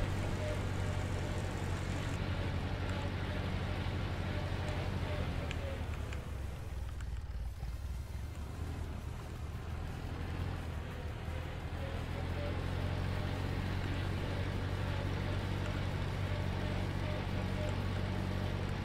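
A tractor engine drones steadily throughout a farming video game, a constant low rumble with a brief dip midway, while people talk over it.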